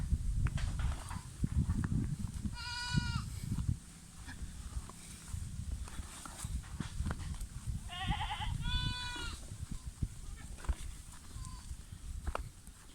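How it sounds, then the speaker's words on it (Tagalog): Goats on a family farm beside a forest planting area bleat in a few distinct calls, one early and two close together later, over rustling, thumping and outdoor background noise. "Yan yung mga kambing ng parents ko."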